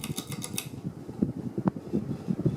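A 1991 Hunter Original ceiling fan running on high speed, motor heard close up as a steady whir with a rapid rhythmic ticking and rattling over the rush of moving air.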